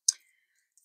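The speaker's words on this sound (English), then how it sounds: "So I love these scissors, these vintage-looking scissors." A pair of vintage-looking scissors gives one sharp, close click followed by a faint second click in an otherwise quiet room.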